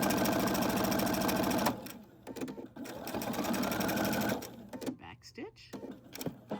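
A sewing machine stitches back and forth in close, loud, rapid mechanical bursts, running steadily, pausing briefly, then running again before quieter handling noises.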